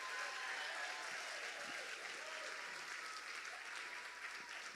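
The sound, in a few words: audience applause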